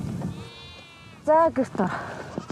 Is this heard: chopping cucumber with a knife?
no